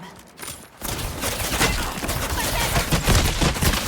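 Rapid bursts of gunfire ring out continuously in the shooter game Highguard, loud and dense after a brief quieter opening moment.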